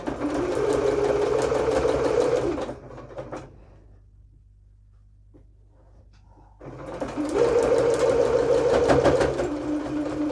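A sewing machine stitches bias binding down along a curve in two loud, close bursts of rapid whirring stitching. Between them comes a pause of near silence with a faint low hum.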